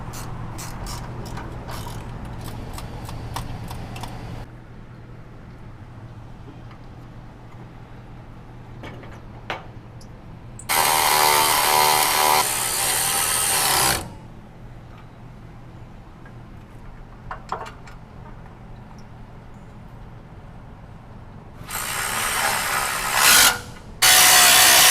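Bolts being tightened back into a rock slider on a 2010-2023 fifth-generation Toyota 4Runner, using a 12 mm ratchet. Clicking ratchet strokes come in short bursts, with metallic rubbing and tool handling between them and two louder, broadband bursts of mechanical noise.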